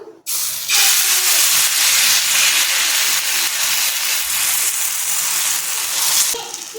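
Uttapam batter poured onto a hot oiled tawa hisses and sizzles loudly and steadily for several seconds, a broad close-up spray of frying noise that starts abruptly and fades at the end.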